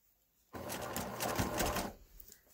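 A sewing machine stitches binding onto a quilt, its close, steady motor whir running for about a second and a half before stopping.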